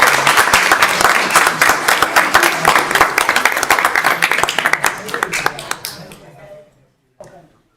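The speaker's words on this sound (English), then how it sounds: "applause" Big round of applause from attendees at a town council meeting, many hands clapping loudly and close, thinning into a few scattered claps before fading out, with a last stray clap at the end.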